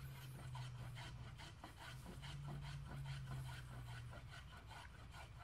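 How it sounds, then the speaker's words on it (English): A hand skew plane rounds over the edges of a cypress board for a trestle table, giving faint, repeated rasping strokes in a steady back-and-forth rhythm, close up with no voices. "gonna make a round over on all four edges using that same skew plane"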